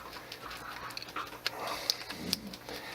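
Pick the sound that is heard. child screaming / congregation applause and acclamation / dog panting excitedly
dog panting excitedly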